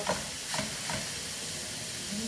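Bolognese sauce frying and browning in a pan, a soft continuous sizzle with a few brief stirring scrapes, fairly quiet and close.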